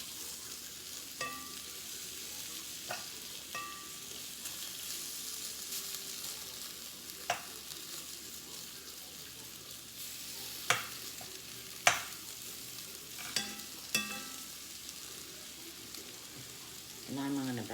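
Beef tips browning in a Dutch oven on medium heat, a steady low sizzle throughout with occasional scrapes and clinks of a utensil against the pot, moderately close and fairly quiet, no talking.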